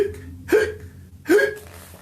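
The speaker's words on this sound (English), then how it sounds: "He's passed on the hiccups to Pufferfish." A cartoon pufferfish hiccups twice, each a sharp, squeaky gulp spaced under a second apart, close and alone against a quiet background.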